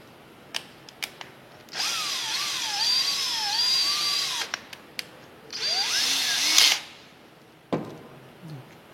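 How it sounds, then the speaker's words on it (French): A cordless drill whines in two long bursts as a hole saw grinds through plasterboard, with clicks and taps between and after the cuts. "Je prends ma scie cloche avec ma visseuse."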